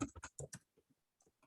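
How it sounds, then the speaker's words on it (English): Quick bursts of computer keyboard typing during an English-language webinar, a dense cluster of loud keystrokes followed by a few sparse, fainter taps. "I'm typing in Action"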